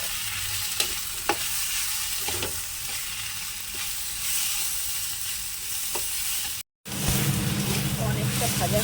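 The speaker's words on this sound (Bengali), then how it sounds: "এবার মটরশুঁটিটাও দিয়ে দেবো। তো এটা একটু ভাজা ভাজা হোক আগে।" Green peas frying and stirred in a pan, a steady sizzle with occasional sharp spatula scrapes and clinks, a brief gap, then louder, fuller sizzling resumes.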